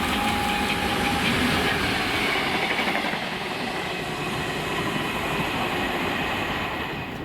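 Class 66 diesel locomotive 66067 running light on a flat move from Mossend to Carlisle, a loud steady engine rumble with rolling wheel noise as it passes close by.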